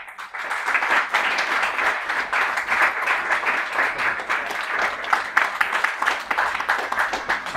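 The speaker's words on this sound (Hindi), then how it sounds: "अब आप अपने अपने ग्रुप के लिए ताली बजाएंगे" A room of trainees applauds their groups at a product training program, sustained loud clapping from many hands running steadily without pause.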